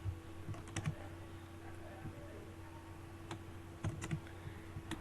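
Keys clicking on a computer keyboard while typing Urdu text into a table in MS Word, in short scattered bursts over steady room hum, close by, with someone speaking.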